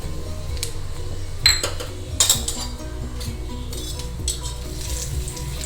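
Red chilli powder and spices sizzle steadily in hot oil in a kadai, with a metal spoon clinking and scraping against the pan as they are stirred, loud and close with no talk.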